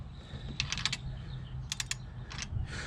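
A torque wrench with a 12 millimeter socket clicks as it reaches 22 foot-pounds while tightening a water flow kit on a RZR, giving short, sharp clusters of ratcheting clicks in three bursts over a faint background hum.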